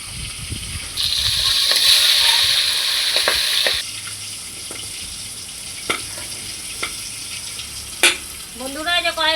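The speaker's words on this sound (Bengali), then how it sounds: "ভীষণ মাছটা ফুটছে, মাগুর মাছ" Magur catfish frying in a pan, a loud close sizzle that drops to a softer crackle, broken by scattered sharp pops, with a brief chirping squeak at the end.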